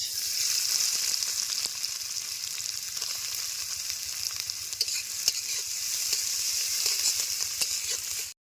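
Chopped onion frying in mustard oil, village-style cooking: a steady, close hiss of sizzling with faint scraping clicks from stirring throughout, no talking.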